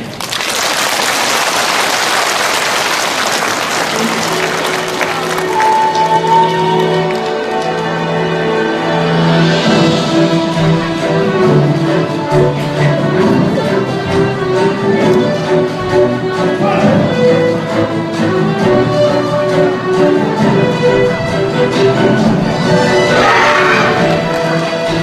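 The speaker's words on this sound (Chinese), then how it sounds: "掌声热烈。" Audience applause at a Korean taekwondo demonstration team's breaking performance at Suwon Science College, a dense steady wash of clapping that runs throughout, loudest at the start and later layered with music.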